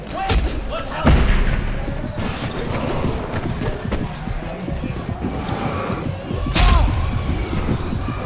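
Fireworks burst within the Alan Wake Remastered game, sharp booming thumps landing at irregular intervals amid a busy mechanical clatter, with a voice speaking over the scene.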